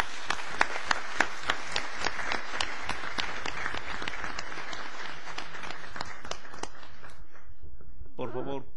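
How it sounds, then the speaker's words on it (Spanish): Sustained audience applause fills a general assembly hall, dense and steady with sharp individual claps, tapering off near the end as a voice begins speaking. "le agradecemos su presencia con un aplauso"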